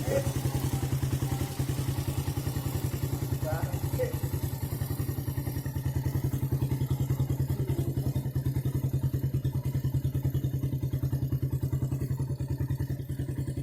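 Suzuki Satria FU motorcycle engine held at high revs up to the limiter, a loud, steady buzzing drone with dense rapid firing pulses throughout, close and continuous with faint clatter.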